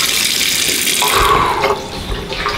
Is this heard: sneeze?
no